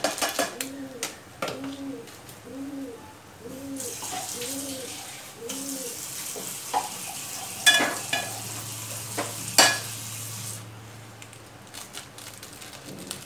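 Biryani masala and spices being stirred and frying in a pan for veg pulao, a soft sizzle with scraping spoon strokes, as a pigeon coos repeatedly nearby.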